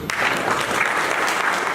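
Audience clapping at a state-level NGO conference in Pune, a short dense burst of steady applause filling the room.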